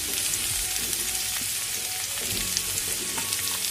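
Ginger and garlic fry in hot oil for egg curry gravy, giving a steady, dense sizzle and crackle with small pops scattered throughout, close and continuous with no voices.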